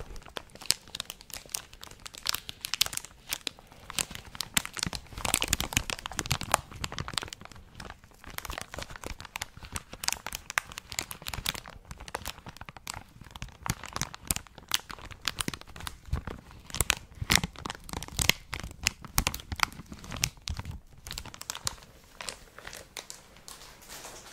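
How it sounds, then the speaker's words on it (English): Plastic and paper packaging around a new microphone crinkled and crumpled up close, a dense, continuous rustling with bursts of louder crackling and tearing-like rasps. "But it still makes good crinkles."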